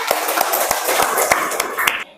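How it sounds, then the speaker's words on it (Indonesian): A classroom of students bursts into applause, claps overlapping into a dense patter for about two seconds before cutting off. "Tepuk tangan untuk semuanya."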